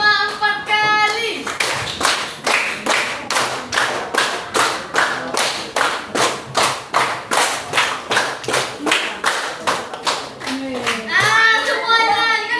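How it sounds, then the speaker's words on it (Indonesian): In a classroom guidance session, a group of children claps in a rhythmic counted pattern: a long run of sharp, evenly spaced unison claps, loud and near, with speech at the start and end. "Tepuk 5 4 kali."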